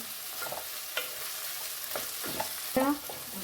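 Onion sautéing in a pan, stirred with a few scraping strokes and light utensil taps over a steady, close sizzle.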